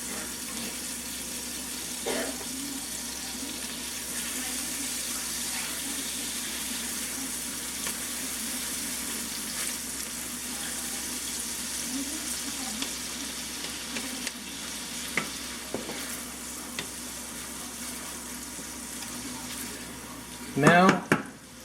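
Shrimp with butter in a frying pan gives a low, steady sizzle across the whole stretch, with occasional light clinks and a louder clatter near the end.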